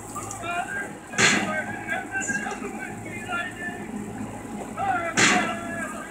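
Gunshots in the video game Prey: two loud, sharp bursts about four seconds apart stand out over a steady game background, with a player talking throughout.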